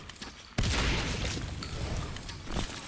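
Shotgun blasts and other weapon fire in the video game Natural Selection 2, a loud burst starting abruptly and continuing as dense sustained combat noise.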